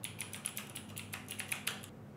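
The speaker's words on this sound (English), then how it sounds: "Now type in your email address" Rapid keystrokes on a computer keyboard as an email address is entered, a quick uneven run of light clicks, close and clear over faint room hiss, ending in a brief pause.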